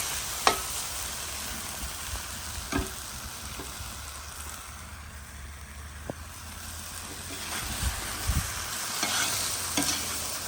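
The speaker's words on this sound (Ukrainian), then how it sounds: "І ще раз повторимося, піджаримо м'ясо." Pieces of pork side sizzle steadily in a hot pan while being fried for Ukrainian plov, with occasional scraping knocks as a spatula stirs the meat close by.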